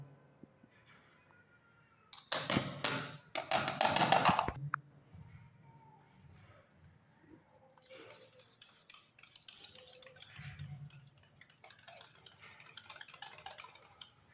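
Gram flour (besan) is stirred into homemade lassi in a bowl, with bursts of whisking and scraping against the bowl, first in two short loud spells and then as a longer, steadier stretch of mixing.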